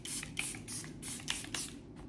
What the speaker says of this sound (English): This is the Charlotte Tilbury setting spray.